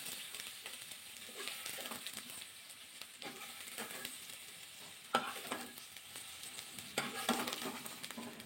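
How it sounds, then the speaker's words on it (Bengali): Jackfruit frying in mustard oil while being stirred, a soft continuous sizzle broken by scraping strokes of the spatula at a steady pace, fairly faint. "নাড়াচাড়া করে ইঁচড়টা ভাজা করে নিয়েছি"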